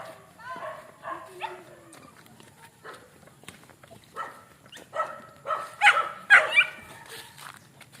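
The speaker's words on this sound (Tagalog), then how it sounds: "Marami rin pala mga aso." Several dogs bark intermittently at mid distance, with scattered yelps and whimpers and people talking in the background.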